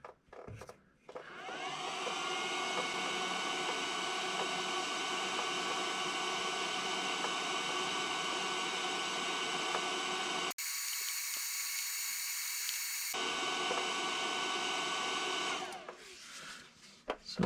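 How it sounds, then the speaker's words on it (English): An induction heater hums steadily and loudly while heating a broken stud on a Jeep Wrangler JK automatic transmission, a continuous tonal whine with a brief shift in tone before it cuts off. "So now it's time to get this broken stud out. So back with the induction heater."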